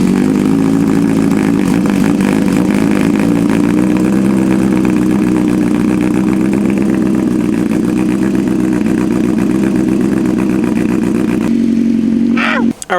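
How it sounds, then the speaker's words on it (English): A 2025 Honda CBR1000RR-R Fireblade with a full titanium exhaust idles from a cold start, a loud steady burbling rumble held for about eleven seconds before it settles lower and cuts off abruptly. "Let's do a cold start because the cold starts have been rough on this bike for some reason."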